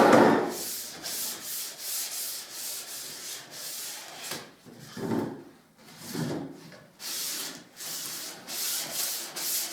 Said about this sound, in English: Now some fine, warm sandpaper. Just lightly rub the surface.